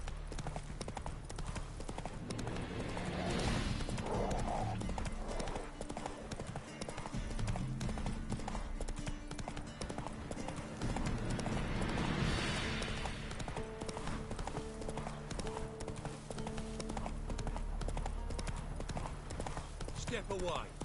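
Hooves of Geralt's horse Roach in the video game The Witcher 3 clip-clop steadily throughout, under a dense game soundscape of music, ambience and talking voices.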